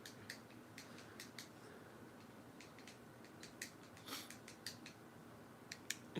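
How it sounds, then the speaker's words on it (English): A fidget cube clicks in quick, faint bursts against a quiet indoor background, the light snaps coming irregularly in small clusters with short pauses between them. "If you hear clicking, I have a fidget cube because I need it."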